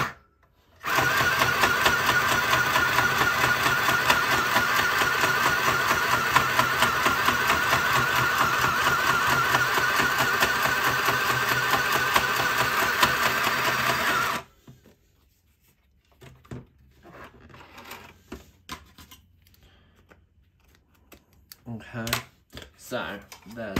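A sewing machine stitches through paper for a handmade card, running steadily in a fast, even mechanical chatter for about fourteen seconds before stopping, followed by quieter handling noises.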